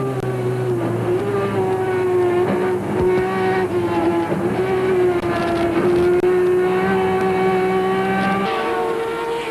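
Turismo Carretera race car engine heard onboard at Rafaela, a loud steady high-revving drone with shifting pitch and brief dips, continuous and close throughout.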